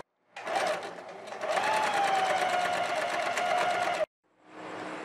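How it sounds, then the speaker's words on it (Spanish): An electric sewing machine stitches a seam in fabric, running with a steady, close whirring buzz for several seconds, stopping abruptly, then starting up again. "Vamos a realizar una costura para luego doblar y colocarla acá."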